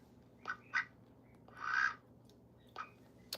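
Olivia Gray, a pet duck, quacks in a handful of close, loud bursts, including one longer drawn-out call, with quiet pauses between them and no talking.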